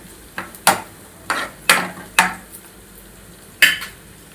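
A spoon scraping and tapping against a pan while onions are stirred for chole, sharp clatters in an irregular rhythm, close and fairly loud, with little sizzle audible.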